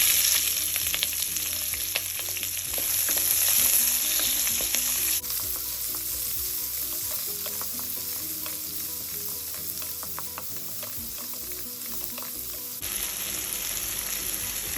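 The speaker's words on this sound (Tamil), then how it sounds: "1/4 கிலோ அளவுக்கு நீளமாக வெங்காயம் நம்ம நறுக்கி வச்சுக்கணும். இதில் ஆட் பண்ணிடலாம்." Steady, dense sizzling of sliced onions frying in hot ghee, close up, with occasional stirring scrapes and no talking.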